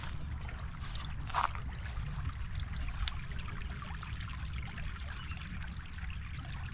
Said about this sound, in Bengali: দেখতে পাচ্ছেন সামনে এখান দিয়ে পানি যাচ্ছে গড়িয়ে